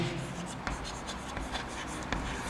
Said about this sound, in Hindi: एग्जांपल्स में यहां लिख रहा हूं बच्चों